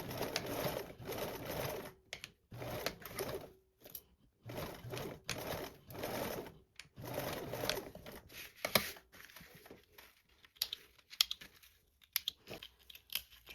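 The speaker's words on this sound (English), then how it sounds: "We're just going to sew 2 of these right along that bottom edge with a 3/8 seam allowance." A sewing machine stitches two pieces along a bottom edge with a 3/8 inch seam allowance, running in short stop-start bursts with clicks and pauses between runs, fairly close and moderately loud.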